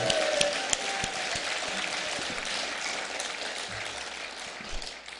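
A church congregation at a prayer retreat service gives steady, moderately loud applause, a continuous wash of clapping lasting the whole stretch with a few sharper claps standing out.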